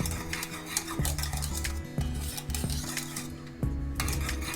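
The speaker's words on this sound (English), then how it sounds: "Now I'm going to mix for a little more and cook a little more." A spoon stirs vanilla pudding in a cooking pot, scraping and knocking against the metal in a steady, repeated rhythm. The sound is close and continuous, with no talking.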